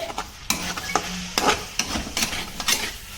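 Masala, including coriander powder, being stirred into a potato and brinjal curry in a pan, with repeated scraping strokes of a spoon over a soft frying sizzle.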